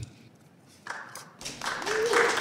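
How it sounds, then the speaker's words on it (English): Audience members clap at a congressional-style hearing on Pakistan, starting sparse and faint, then swelling into louder, denser applause near the end, with a voice and murmuring mixed in underneath. "Y'all don't need to clap for me."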